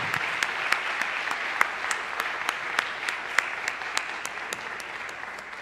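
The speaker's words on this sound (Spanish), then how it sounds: "agradecemos con un fuerte aplauso nuevamente a nuestros" Seated conference attendees applaud the presenters at the close of a lecture session, with dense clapping and a few sharper individual claps standing out, steady and moderately loud throughout.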